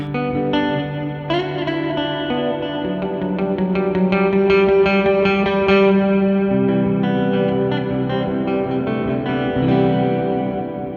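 Electric guitar played through a UAFX reverb pedal (Evermore or Heavenly) with modulation, sustained chords and ringing notes washed in a lush, chorus-like shimmering tail, loud and continuous without talk.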